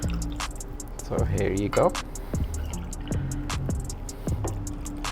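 Water poured from a cup into a pan for black-eyed peas curry, splashing and trickling in short bursts, heard close under a person speaking.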